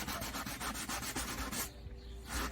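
Old 400 grit sandpaper rubs back and forth over a Suzuki Samurai valve cover in quick, even strokes, close and fairly quiet. The scraping pauses near the end, then resumes.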